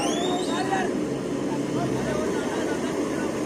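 A tractor approaches through a crowd at an idol immersion gathering in Jhabua, a steady broadband engine rumble mixed with dense crowd noise and some voices throughout.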